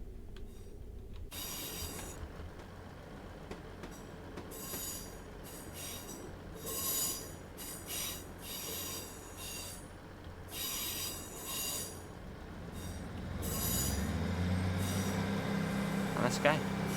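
A Class 158 diesel multiple unit runs along the Wessex Mainline in Train Simulator, with a steady rumble, repeated wheel squeal and rail noise, and a louder low drone building near the end, under occasional talk.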